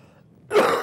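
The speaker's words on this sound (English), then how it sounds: "I've been coughing like 2 weeks" A single short, harsh cough or throat clear from a person, sudden and close, after near silence.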